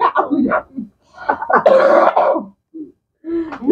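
A person with a cough gives a few short, rough coughs and throat-clearing bursts up close, broken by brief pauses and mixed with nearby talking.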